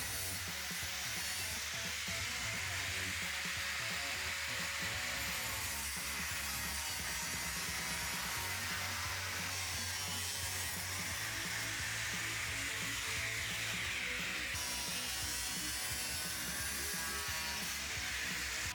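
A power tool cuts continuously through the body of a Lexus GX460 during a rock slider install, a loud, sustained harsh grinding whine with small shifts in pitch and no talking.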